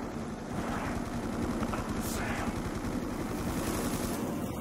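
An RPD machine gun fires in long, dense bursts in a zombie survival video game. The rattle is loud and continuous, with a steady roar and some chaotic effects behind it.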